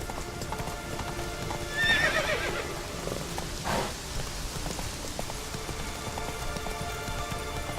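Roach, the horse in The Witcher 3 game, trotting with steady clip-clop hoofbeats while it whinnies clearly, set against a constant patter of rain.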